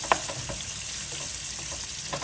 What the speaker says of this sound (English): Let's get them nice and caramelized, and let's let that smoked bacon flavor soak into these onions.